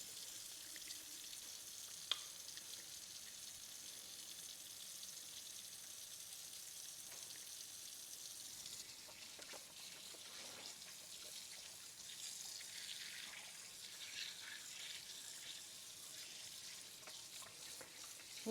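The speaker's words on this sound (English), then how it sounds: "Not the most riveting of things to watch me wash my hands" Warm water runs from a tap over hands being washed with olive oil and washing-up liquid, a quiet steady splashing with faint rubbing and a change in flow partway through.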